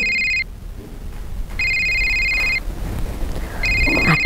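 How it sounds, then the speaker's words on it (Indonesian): A telephone rings in three electronic bursts, each about a second long with pauses between, over faint wind and background rustling. "Ada telepon."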